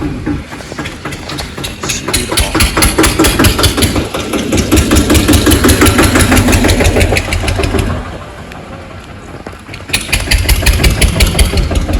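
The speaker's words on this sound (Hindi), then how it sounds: "हटा दिया ट्रैक्टर भाई ने" A loud tractor engine at a brick kiln runs steadily with a rapid mechanical chug, dipping briefly toward idle before revving back up.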